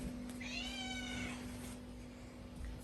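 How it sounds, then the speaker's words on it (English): A cat meows at a door on Koh Tao, Thailand, giving one drawn-out, fairly faint meow against a steady background hum. "This cat just came in. Literally came to the door, started meowing."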